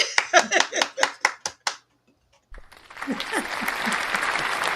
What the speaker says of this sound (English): Give me a hand clap, Andre.